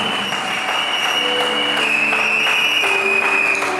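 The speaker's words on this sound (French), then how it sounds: "Célèbre Jésus par tes acclamations" A church congregation cheers and applauds during a service. Loud, continuous clapping and crowd noise blend with sustained musical tones beneath, close and steady throughout.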